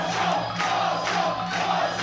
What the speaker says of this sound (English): Just listen to that crowd, Chris. Absolutely electric.